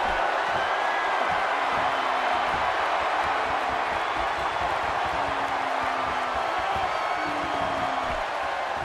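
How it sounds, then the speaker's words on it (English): Dense, steady crowd noise fills a wrestling arena in WWE 2K16, a continuous roar with faint whoops and cheers rising throughout, loud and unbroken for the whole stretch. "The crowd on hand tonight clearly fired up for this match here on Superstars."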